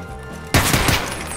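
Gunfire in the co-op shooter game Escape from Tarkov (SPTarkov), a sudden loud burst of rapid shots over a steady background hum.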